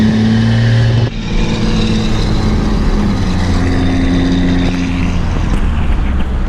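A loud Cummins diesel pickup truck engine drones and revs while pulling its first big load, dropping briefly before building again into a sustained, rumbling roar with shifting pitch.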